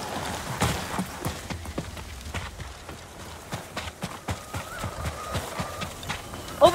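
Horse hooves clop unevenly over temple grounds in the video game Ghost of Tsushima, with a short whinny near the end and faint background ambience.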